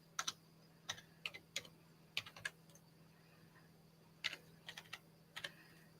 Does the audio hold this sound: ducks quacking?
no